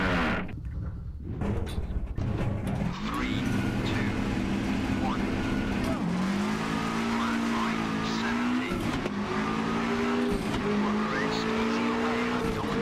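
A Subaru rally car in Richard Burns Rally tears through a 2008 stage, its engine revving hard and shifting in rising and falling sweeps, with tire noise and a voice speaking over it.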